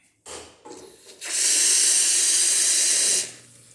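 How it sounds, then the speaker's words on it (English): Brief clunks, then a Lelit Bianca espresso machine lets out a loud, steady hissing rush as hot water dispenses for about two seconds before stopping. "And here's the hot water."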